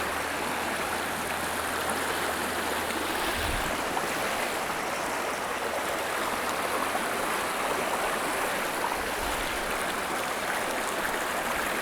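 A shallow river stream on a trout fishing outing rushes steadily and loudly throughout, a continuous broadband wash of flowing water with no voices.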